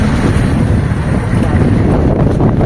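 A boat heads out of port toward open sea near the Gigantes Islands, its steady engine rumble mixed with loud wind buffeting the microphone and the rush of water, continuous and close with no clear talking.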